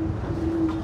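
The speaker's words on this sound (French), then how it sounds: "incroyable ce vent" Wind blowing during sailing, a loud, steady rumbling gust battering the microphone with a constant low roar and a faint whistling tone, no talk.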